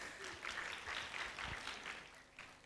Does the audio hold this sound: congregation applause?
yes